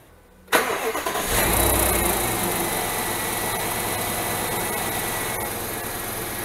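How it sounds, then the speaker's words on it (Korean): A Dodge Dakota's 4.7-litre V8 cranks and fires after a moment of quiet, a loud burst settling quickly into a steady, close-up idle that runs to the end. "선생님 시동 한번 걸어주세요."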